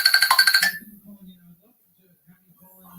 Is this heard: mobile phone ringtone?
yes